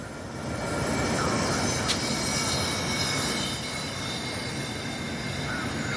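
A New Jersey Transit train on the Raritan Valley Line passes steadily nearby for the whole stretch, a broad rumble with wheel squeal and rail noise swelling slightly toward the middle.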